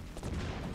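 Pistol fire in Doom multiplayer, a short, close burst of dull shot impacts packed together over a steady low rumble of game noise, with no talk.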